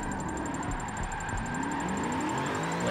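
Car engine in Forza 7 holding a steady high rev under throttle on a Dubai circuit, a 1000+ horsepower rear-wheel-drive car, loud and continuous with a faint whine above, no talk.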